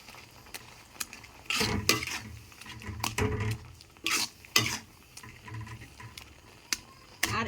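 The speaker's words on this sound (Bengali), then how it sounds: "এই যে ছানাটুকু যে করে রেখেছিলাম সেই ছানাটুকু দিয়ে দেব এটা এখন ভালো করে মিশিয়ে নিতে হবে" Fresh chhena (cottage cheese) is stirred in a pan for orange sandesh, giving scattered scraping and patting strokes of a spoon or spatula with faint sizzling, mostly soft with a few sharper clacks.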